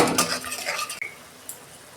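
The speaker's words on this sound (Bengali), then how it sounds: "এটা আমি 2 মিনিট কষাবো, আদা টমেটোর কাঁচা গন্ধটা যতক্ষণ না যায়।" Ginger tomato paste sautéed in a pan, a utensil scraping and clinking against the metal as it is stirred, close and fairly loud at first, then a quieter pause with a single light tap.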